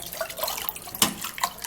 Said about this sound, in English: So I'm going to be pouring in more water.